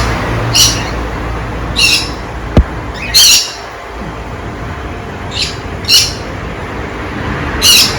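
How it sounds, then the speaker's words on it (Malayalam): Birds squawk loudly in repeated harsh bursts, roughly every second or two, at an orchid nursery, with one sharp click partway through and no talking. "കിളികളൊക്കെ നല്ല ബഹളം വെക്കുക."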